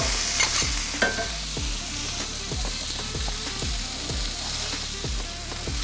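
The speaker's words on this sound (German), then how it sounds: "Dazwischen immer wieder mit den Zwiebeln ein bisschen aufpassen, dass sie verbrennen." Onions sizzle in a hot pan while being stirred, with a steady frying hiss under rhythmic scraping strokes about twice a second. Nobody speaks.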